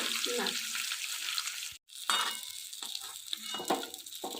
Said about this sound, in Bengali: এই রাউন্ডের মাছ ভাজা হয়ে গেল একদম শেষ